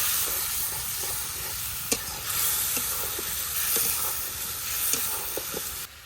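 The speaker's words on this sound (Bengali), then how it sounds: "মশলাটাকে ভালোভাবে কষে নিই" A spice paste of turmeric, chili, coriander, salt, ginger and cumin is sautéed in a pan, sizzling steadily and hissing, with scattered utensil scrapes and light knocks throughout.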